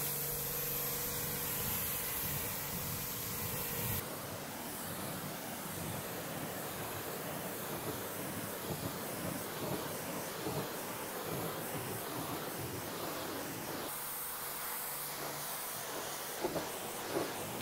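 Water spray hisses steadily as a car is rinsed after iron remover, a continuous close broadband hiss with brief shifts in intensity throughout and no talk.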